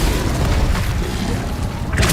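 Incendio fire spell in the video game Hogwarts Legacy roars as a loud, low, rumbling whoosh of flame under constant combat noise, with a brighter burst right at the end.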